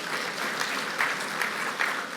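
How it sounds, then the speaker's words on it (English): An audience at a foundation launch event breaks into applause, a brief burst of moderate, slightly distant clapping with a few sharper claps poking out of the steady patter. "Let's give a clap to the State Department of Cooperatives."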